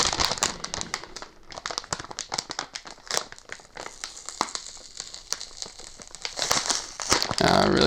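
Graphics card packaging for an AMD Radeon VII Gold Edition being torn open by hand, a dense run of close crinkling, ripping and crackling paper and plastic with no talk.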